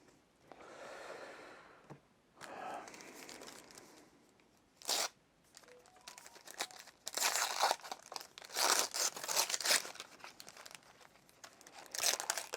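Plastic wrap being crinkled and torn off a pack of Earthborne Rangers board game cards, close and quiet, with bursts of crackling and rustling that grow busier toward the end.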